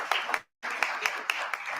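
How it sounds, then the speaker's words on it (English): Audience hand clapping, a brief burst of sharp overlapping claps that stops for a moment, then resumes with several distinct louder claps, moderately near. "Please give us a hand clap for that."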